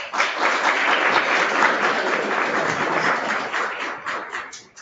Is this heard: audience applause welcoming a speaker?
yes